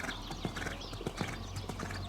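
Horse hooves strike the arena footing during dressage training in a steady, rhythmic clip-clop, close and continuous with no pauses.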